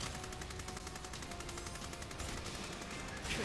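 Rapid SMG gunfire rattles in the Sword Art Online: Fatal Bullet video game as a dense, continuous burst of shots at moderate loudness, with a game soundscape behind it and no talk.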